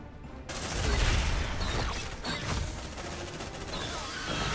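Sustained automatic gunfire in the sci-fi video game Aliens: Dark Descent, a loud continuous fusillade of rapid shots with crackling impacts, dense and unbroken for several seconds.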